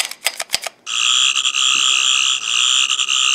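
After several quick plastic clicks, a Wave 1 Third Doctor sonic screwdriver toy from Doctor Who lets out its second hidden sound, a loud, sustained buzzing electronic tone with slight flutters, alone and close.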